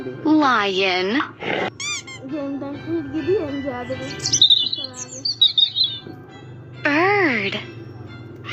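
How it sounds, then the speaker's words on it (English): A cartoon bird gives short high chirps and tweets around the middle of the clip, between louder, stylised animal calls and a child-like voice. "Bird."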